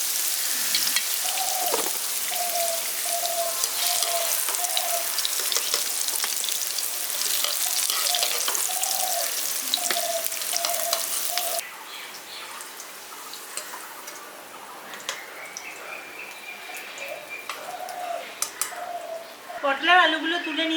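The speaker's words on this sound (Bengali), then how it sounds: "এখানে আলুগুলো আর পটলগুলো দেখুন ভেজে নিয়েছি হালকা করে" Potatoes and pointed gourd fry lightly in oil, a close steady sizzle that drops to a softer hiss partway through, with a voice talking over it.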